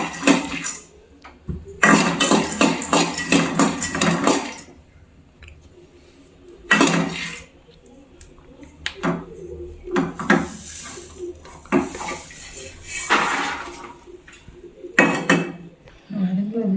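Roasted seeds slide and clatter from a pan onto another plate in a home kitchen, with several bursts of clinking and scraping against dishware separated by quiet pauses.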